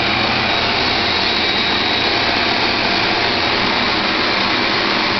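A vacuum table clamping plastic materials runs with a loud, steady, unchanging roar and hiss throughout, close and alone with no voices.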